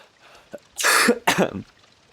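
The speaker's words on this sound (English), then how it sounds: "It feels nice to cough and not come from like the fucking depths of my throat" Two short, harsh coughs sound close by in quick succession, each a sharp rough burst with brief silence around them.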